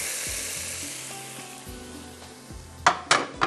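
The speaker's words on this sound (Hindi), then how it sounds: "ओहो, मज़ेदार तड़का लग गया।" A tarka (tempering) for jheenga methi masala crackles and sizzles in hot cooking oil, a loud, close, continuous fizz that ends in several sharp spluttering bursts.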